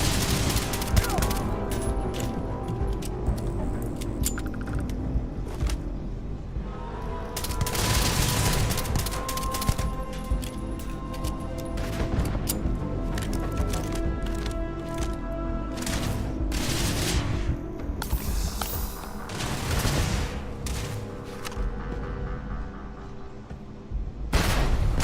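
Sustained gunfire from a weapon in the space game Starfield, with dense, overlapping shots and heavy bursts rolling continuously for about 25 seconds, loud and near, with faint game noise underneath.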